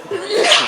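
A single loud, close sneeze with a sharp breathy burst that trails off quickly.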